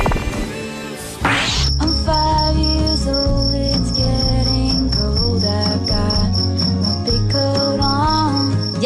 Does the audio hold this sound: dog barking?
no